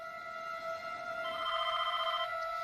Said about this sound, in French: La mère de la victime, Pat Rudd, vient de s'endormir quand le téléphone sonne.